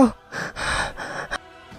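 Gasping, out-of-breath panting from a frantic person in a Filipino aswang horror audio drama, several heavy ragged breaths close and alone, ending with a sharp catch.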